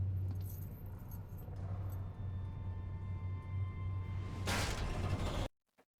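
Keys jangle in a scene from The Legend of Korra animated series, a light metallic rattling over a low steady hum, ending with a brief whoosh before sudden silence.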